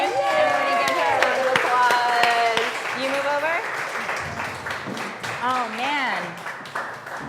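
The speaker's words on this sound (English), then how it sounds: "Everybody give her a round of applause." Audience applause on a television show featuring a mariachi group, with clapping spread through the clip beneath loud, animated talk and cheerful voices from people close by.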